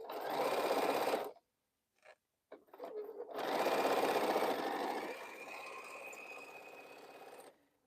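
A sewing machine stitches quilt pieces in bursts, stopping briefly between runs, with a longer steady whir in the middle; someone talks alongside it.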